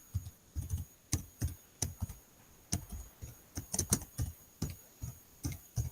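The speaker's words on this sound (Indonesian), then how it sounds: "ngetik tangan satu nih." Keystrokes tapped on a computer keyboard with only one hand, coming as uneven clusters of sharp, close clicks separated by short pauses, with no voice over them.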